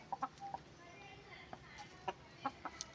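A white six-month-old hen on a poultry farm gives short, scattered clucks, a few close together then spaced out, over a steady background hum of the farm.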